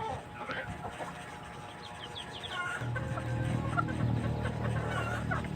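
Chickens being fed, with steady nearby clucking and some higher chirps, joined partway through by a low continuous hum and light background noise.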